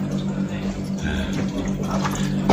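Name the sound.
tap water flowing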